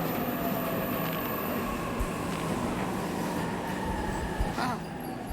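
Train rumbling into a station in the video game 13 Sentinels: Aegis Rim, a continuous rolling drone with faint wheel clicks and a brief squeal near the end, moderately loud.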